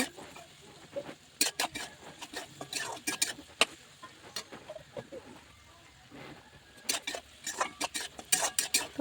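A utensil stirs fried rice ingredients with sugar in a pan, giving irregular close scraping and clinking strokes in bursts over a quiet background.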